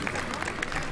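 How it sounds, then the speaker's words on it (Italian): Audience applause at a carnival event at Villa Pisani in Stra, near Venice, a dense steady wash of clapping filling the whole moment alongside crowd murmur. "Fate un applauso a loro."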